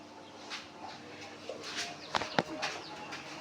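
Soft, low pigeon coos come and go in a quiet space, joined by a couple of sharp clicks or taps partway through.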